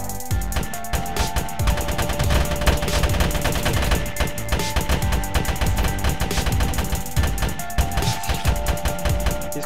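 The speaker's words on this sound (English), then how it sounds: "Oh, this is an auto weapon." Automatic weapon fire in the sci-fi shooter Grav during a two-versus-two moon PvP match, continuous rapid bursts at steady loudness filling the whole stretch with dense gunfire.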